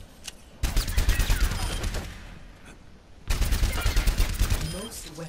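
Rapid bursts of weapon fire aimed at training bots in Overwatch, two dense volleys of sharp shots separated by a quieter gap, loud and close.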